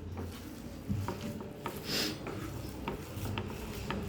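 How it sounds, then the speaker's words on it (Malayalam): Egg cutlet masala being mixed and squeezed by hand gives soft, close rubbing and squelching strokes, a steady series of quiet rasps with no talking. "നല്ലോണം ഇതാ കൈകൊണ്ട് മിക്സ് ചെയ്യുക"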